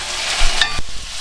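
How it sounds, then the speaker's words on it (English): Leeks and carrots are stirred into a hot frying pan for a beef and vegetable pie, a short loud sizzle with a couple of quick spoon scrapes and a knock, close up. "So now in with our leeks, and in with our carrots. Let's stir them in."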